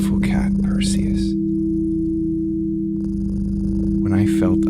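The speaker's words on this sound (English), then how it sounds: "Just listen to the purring for a bit" A cat named Perseus purrs loudly and steadily up close, a continuous low rumble that runs unbroken through the whole stretch while speech starts and stops over it.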